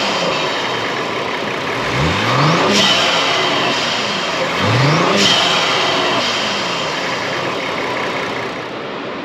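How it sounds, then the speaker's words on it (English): A car engine with a FenFab charge pipe revs twice in quick succession, each burst rising sharply then falling back to a steady idle, close and loud with no talking. "I'll go and give it a couple of revs."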